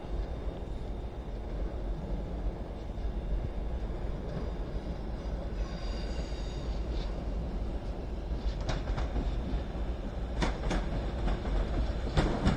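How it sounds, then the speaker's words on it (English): A Northern class 323 electric multiple unit from Manchester Piccadilly pulls into Crewe to terminate, a steady rumble of wheels and traction with faint clicks and light squeals building toward the end, heard alone without voices. "Terminating in now is a Northern 323 from Manchester Piccadilly"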